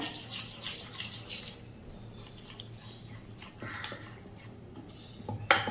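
Water poured into a bowl holding a grated pumpkin and potato mixture with whole mung beans, a steady trickling splash running for several seconds, close and moderately loud with a brief clatter near the end.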